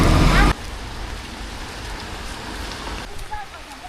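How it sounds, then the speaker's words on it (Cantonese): Rain falls in a waterside village on Lantau Island, Hong Kong, during a very high tide. It makes a steady, dense hiss of drops that stays continuous and fairly loud throughout. "落雨啊！ 落雨啊！"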